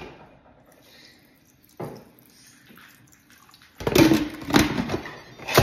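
Water pours into a pressure cooker pot lined with a liner while pho broth is being made. After a few quiet bumps, the pour comes in loud splashy bursts near the mic.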